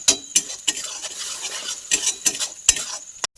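Ground spice paste of cumin, nigella, mustard and green chilli with turmeric is stir-fried in oil, a faint sizzle broken by repeated sharp scrapes and clinks of a metal spatula against the pan at irregular intervals, no voices.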